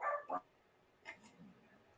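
A dog gives a couple of short barks and yips at moderate distance, followed by a brief whimper-like sound, over a quiet background.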